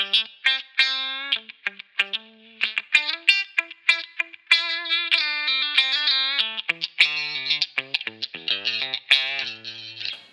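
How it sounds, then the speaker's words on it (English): Electric guitar run through a MuTron III style envelope filter on a Line 6 Helix, set to the high range so the overtones stand out, playing a quick busy phrase of notes that sweep and quack brightly, with no voices. "If we go to the high, we're going to be more into the overtones."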